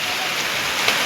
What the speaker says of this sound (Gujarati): ભાવનગરમાં ફાઇનલી વરસાદ આવી ગયો આજે.